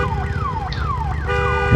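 A car alarm in the Days Gone video game wails loudly with rapid repeating downward sweeps, steady and close, no voices over it.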